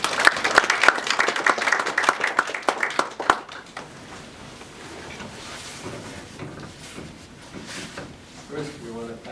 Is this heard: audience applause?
yes